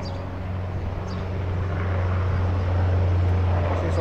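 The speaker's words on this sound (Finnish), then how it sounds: "iso kopteri." Large helicopter flying nearby close to an airport, a steady low rotor drone holding at moderate loudness throughout.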